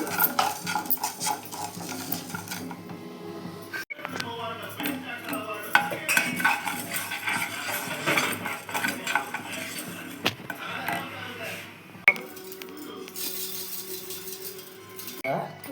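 Mustard and fenugreek seeds dry-roasting in a pan, with metal utensil scrapes, clinks and rattling stirs over a faint crackle, close up, partly under a voice speaking.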